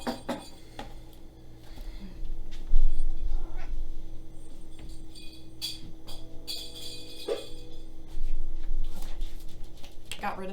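A cat meows several times in a home kitchen while dishes and utensils clink, with people talking throughout.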